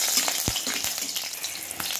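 Eggplant slices frying in hot oil in a wok with nigella seeds and green chilies, giving a steady close sizzle with faint crackles and a soft stirring clatter.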